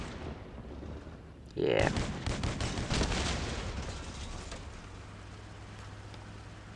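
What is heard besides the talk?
turret shotguns firing in a vehicle-building video game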